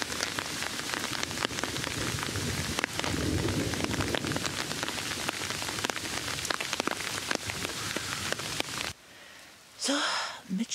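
Heavy rain pours during a thunderstorm, a loud continuous drumming of drops on surfaces for most of the stretch, then drops away suddenly to a quieter hush; distinct thunder is not evident.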